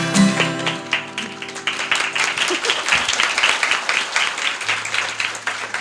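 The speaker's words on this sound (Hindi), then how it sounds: "चुटकी बजाओ, ताली बजाओ।" Children's song audience clapping along in steady rhythmic claps, with a music track and singing running beneath the dense, continuous applause-like patter.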